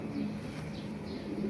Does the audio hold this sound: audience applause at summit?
no